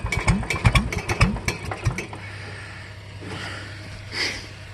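A John Deere engine cold-starts with a quick run of loud, chugging cranking pulses, then settles into a low, steady idle hum close by.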